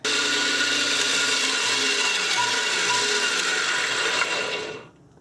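A 120V AC electric winch pays out its cable to loosen the slack, giving a steady, loud mechanical ratcheting whir that runs without a break for about four seconds and then stops.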